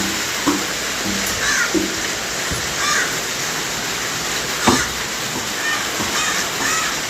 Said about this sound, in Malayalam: കാക്ക തന്നെ കാക്ക